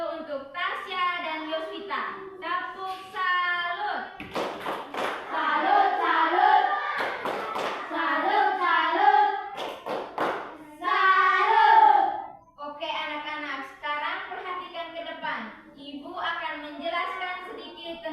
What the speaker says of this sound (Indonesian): Tepuk salut dulu